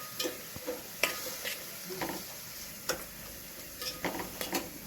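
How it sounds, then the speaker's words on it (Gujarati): Green chillies frying in a pan in a village kitchen, a soft steady sizzle broken by irregular stirring clicks and scrapes, close and moderately loud with no talking. "થોડા મરચાં છે એ આપણે તળવાના છે"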